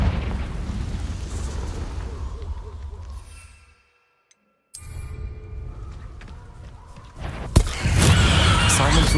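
Confringo fire spell explosions in the video game Hogwarts Legacy, a series of deep booming bursts under a speaking voice, dropping into a brief silence before a louder blast and rumbling aftermath.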